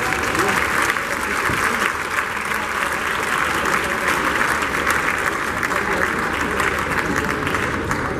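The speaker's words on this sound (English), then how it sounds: "You can support these great kids with your applause" Steady, dense applause from a large audience at a congress opening ceremony in Kyiv, continuous and even throughout without talk.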